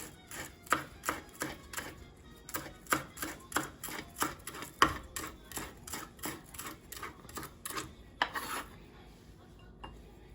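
A knife chops celery on a cutting board in a steady run of close, sharp taps, about two per second, slowing and thinning toward the end, with no talking.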